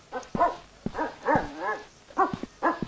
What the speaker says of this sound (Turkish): Bir köpek avlıyor ama nerede?